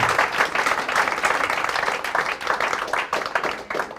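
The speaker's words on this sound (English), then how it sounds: "How about a round of applause for Mr. Ben Kanute?" Audience applause for triathlete Ben Kanute at a Tri Club San Diego talk, a dense, steady wash of many hands clapping close by that holds for about four seconds before thinning slightly at the end.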